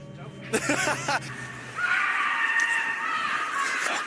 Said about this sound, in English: A scream from what appears to be a child can be heard in the distance.